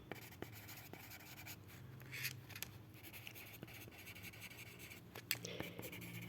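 Quiet pen or marker strokes on a board during a lecture, brief squeaks and scratches over a faint room hum, with soft talk in the background.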